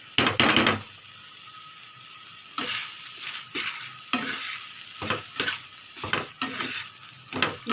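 Carrot halwa with powdered milk is stirred in a pan with a spoon, giving close scraping strokes in irregular bursts over a soft sizzle, with pauses between strokes.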